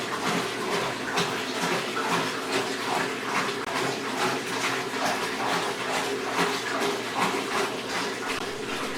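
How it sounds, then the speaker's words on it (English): Fresh ocean water glugs steadily from a 5-gallon jug into a 30-gallon algae-covered aquarium tank, a loud, continuous rhythmic pouring with repeated gurgling pulses throughout and no talking. "And now replenishing the water. That's right, 30 gallons, 5-gallon jug at a time."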